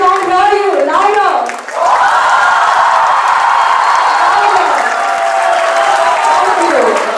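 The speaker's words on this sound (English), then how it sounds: "A big round of applause for our dear voice we say." An audience breaks into a big round of applause at a fireside chat event, loud dense clapping with cheers and whoops filling the room, following a brief amplified voice at the start.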